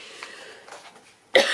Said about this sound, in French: Je vais tousser les amis.